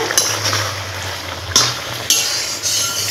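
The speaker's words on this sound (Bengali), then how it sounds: "আলতোভাবে একটু নাড়াচাড়া করে নিচ্ছি।" A spoon gently stirs boiled sweet pumpkin in a cooking pot, giving a few soft scrapes and light clinks against the pot over a low steady hiss, with no talking.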